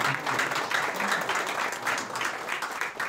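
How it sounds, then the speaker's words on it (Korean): A crowd applauds steadily at a golf club officers' inauguration ceremony, many hands clapping together in a dense, continuous wash of sound that holds at an even level throughout. "박수 한번 쳐주시죠"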